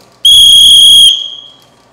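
One shrill, piercing whistle blown with a fluttering tongue, held for about a second, with a rough low rumble beneath it, then fading quickly.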